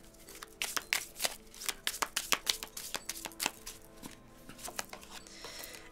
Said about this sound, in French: on va mettre une lame de tarot pour approfondir un petit peu